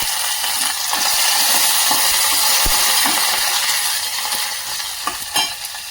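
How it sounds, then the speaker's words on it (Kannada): Dry red chillies and curry leaves sizzle in hot oil for a South Indian tempering while a spoon stirs them, giving a loud, steady, close hiss with small scraping clicks throughout. "ಒಣಮೆಣಸಿನಕಾಯಿ, ಒಂದು ಸ್ಪೂನಿನ ಸಹಾಯದಿಂದ ತಿರುಗಿಸ್ತಾ ಇರಬೇಕಾಗುತ್ತೆ"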